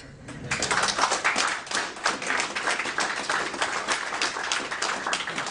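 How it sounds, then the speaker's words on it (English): An audience breaks into loud, sustained applause, dense clapping that swells and carries on without a break. "This is a good time for rapturous applause."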